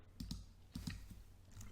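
Quiet keystrokes on a computer keyboard, a few soft clicks in two small clusters, close and faint with no talk.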